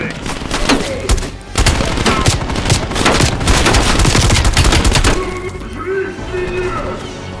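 Rapid automatic gunfire and explosive cracks from a Call of Duty Black Ops Cold War firefight rattle loudly and continuously for several seconds, then ease into quieter background action, with a voice speaking over the shooting.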